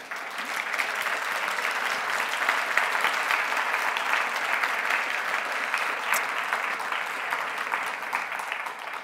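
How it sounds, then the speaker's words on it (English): Sustained applause from a large audience at the Starmus festival in 2011, steady and dense clapping filling the whole stretch without a break or any voices. "So maybe a round of applause for Garrick."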